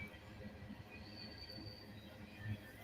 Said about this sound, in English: I can barely hear anything because of the fucking train